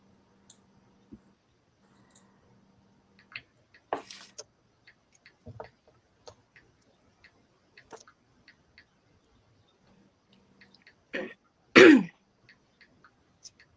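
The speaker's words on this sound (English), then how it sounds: "Sorry, I keep clearing my throat." A woman clears her throat in a quiet room, with a few soft rasping coughs scattered through the clip and one stronger, harsher clearing near the end, amid small clicks.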